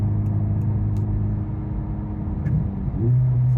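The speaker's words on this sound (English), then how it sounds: "you can hear that little bit of drone on the throttle blip" A 2023 Honda Civic Type R FL5 with an AWE Track Edition exhaust drones steadily from inside the cabin, a low humming tone that shifts and rises briefly near the end as the throttle is blipped.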